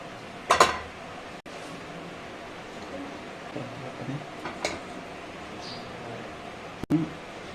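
Stuffed rajma buns set into an idli steamer pot, a few close metallic clinks and knocks scattered over several seconds with soft handling noises between them, no talking.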